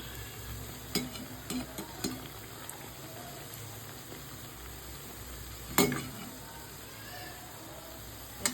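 Lentil and pointed gourd fritters fry in hot oil, giving a soft, steady bubbling sizzle with a few sharp clinks and scrapes of a utensil against the pan.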